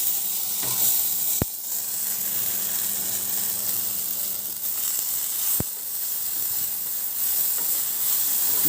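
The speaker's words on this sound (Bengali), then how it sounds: "সজনে আলুটা একটুখানি ভেজে নেব" Drumstick pieces and potato fry in a pan, giving a steady, even sizzle and hiss throughout, broken by two sharp knocks against the pan.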